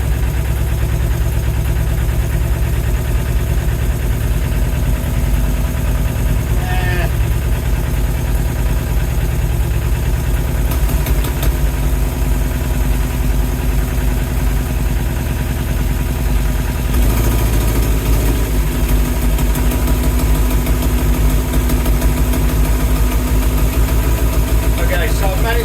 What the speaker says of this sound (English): So I've managed to get it running.